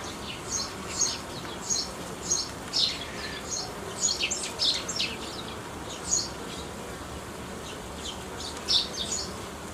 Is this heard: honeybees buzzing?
yes